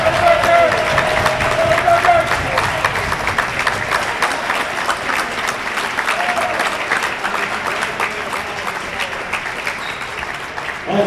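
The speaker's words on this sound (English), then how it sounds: "Let's give another big round of applause and congratulations to our all-tournament team." A crowd applauds the most valuable player at a boys' district basketball championship game, loud sustained clapping that fills the gym for about eleven seconds with faint cheers mixed in.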